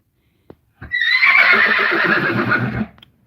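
A single loud, shrill horse whinny rings out for about two seconds, close by. A faint click comes just before it.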